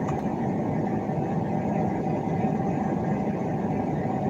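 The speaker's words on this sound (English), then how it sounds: "Keep the engine running so that I can keep the aircon going." A car engine idles with the air conditioning running, a steady, even hum and blowing rush heard from inside the vehicle, unchanging throughout.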